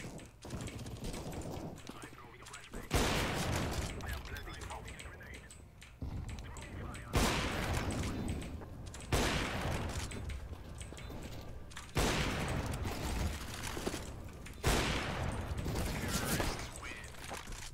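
Rapid bursts of gunfire from CS:GO weapons during a bomb-defusal round, several loud clustered volleys repeating every couple of seconds, with players talking over the action.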